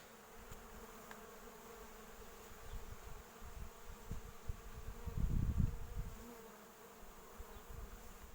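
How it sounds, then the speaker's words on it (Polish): Honeybees buzz around a hive in a soft, continuous hum, with a closer bee droning louder for a moment as it passes by. "Pszczoły ładnie latają, patrzcie."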